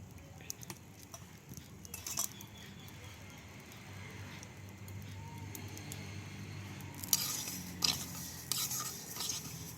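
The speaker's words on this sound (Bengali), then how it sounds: "এবার আমি চাল ভেজে নেব।" Rice dry-roasting in a pan while being stirred, giving soft scraping and rustling with light metallic clinks of the utensil, faint and close, getting busier toward the end.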